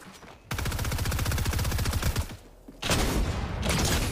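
Shotgun fire in Fortnite, a rapid run of loud close blasts lasting a couple of seconds, a brief pause, then another burst of shots.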